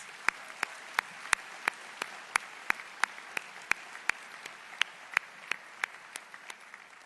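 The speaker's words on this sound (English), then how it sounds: "Let's give them all a warm round of applause." Sparse, scattered clapping from a small crowd at a county State of the County address, distinct individual claps at a fairly steady pace, moderately close.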